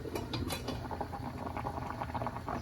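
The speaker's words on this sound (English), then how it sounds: "We're gonna cover it and let it like simmer" Sauce simmers in a covered pan beside potatoes, a dense, continuous bubbling and pattering that stays even and fairly close throughout.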